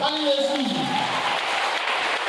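A church congregation at a New Year's Eve crossover night service applauds and cheers for Jesus, a loud, sustained wash of clapping and voices filling the hall throughout.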